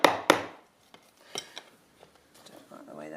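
A hammer drives upholstery tacks into the wooden frame of a traditional drop-in seat: two sharp, close strikes at the start, then fainter, scattered taps and light handling noises.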